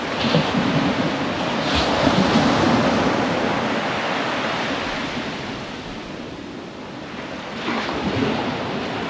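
Sea waves washing onto Chivla Beach in Konkan, India, a steady roar of surf swelling and easing, with wind buffeting the microphone.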